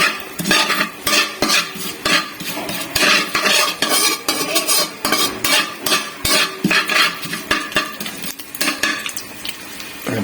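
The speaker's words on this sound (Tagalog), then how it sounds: "kailangan natin haluin para hindi masusunod" A spoon or spatula stirs and scrapes through Filipino garlic fried rice (sinangag) in a pan, in quick, repeated clattering strokes over a light sizzle. The sound is close and fairly loud, with no voices.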